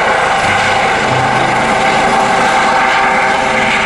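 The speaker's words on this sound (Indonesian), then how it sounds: "Kalau yang ini helikopter polisi." A police helicopter in a video game gives a loud, unbroken rotor and engine drone from start to finish.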